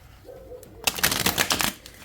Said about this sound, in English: So give it a good shuffle and see what we get.